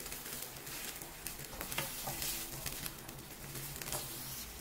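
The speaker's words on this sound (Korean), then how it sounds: "물 한 컵 넣어서 끓여줍니다." Stir-fry of Chinese spicy chicken with green bell pepper in a pan, a cup of water added and brought to a boil, giving a close, steady sizzle and bubbling with scraping stir strokes.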